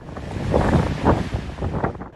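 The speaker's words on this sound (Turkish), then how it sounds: "sahilde de lodos nedeniyle yüksek dalgalar oluştu." High waves pound the Istanbul shoreline during a strong southwest lodos gale, with gusty wind buffeting close by. Several surging crashes of surf swell and fall in a rough rhythm, loud and near, with no voices.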